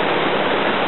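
Water at Lake Resia flows out in a steady, loud rushing hiss, an even broadband roar with no breaks or voices.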